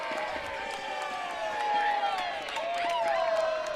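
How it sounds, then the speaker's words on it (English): A crowd at a college softball game between Humber and St. Clair breaks into loud, sustained cheering and whooping, building in intensity over a few seconds, with many overlapping voices. "that might be the loudest cheer for a ball I've heard in some time"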